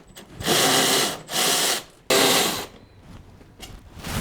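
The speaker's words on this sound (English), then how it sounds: "We're gonna have to drill out those rivets and one bolt at the back right here." A drill boring out rivets on a Ski-Doo snowmobile bumper, with three loud grinding bursts of about half a second each, the third cutting in abruptly, followed by quieter scraping and rattling close by.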